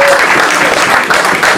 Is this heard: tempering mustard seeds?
no